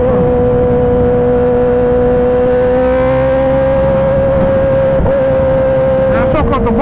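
A 2023 Kawasaki ZX-10R sportbike ridden at speed, a loud sustained engine whine with rising and falling pitch from the rider's position, buffeted by wind noise, with the engine note shifting near the end.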